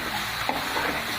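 Egg and onion pakora fried in a pan with coriander leaves give a steady, close sizzle as a utensil stirs and scrapes through the mixture.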